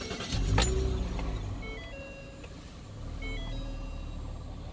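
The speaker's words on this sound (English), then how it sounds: "Should I fire up the car?" A car engine cranks and catches with a loud burst near the start, then settles into a steady idle with faint electronic beeps, heard close in a home-mechanic setting.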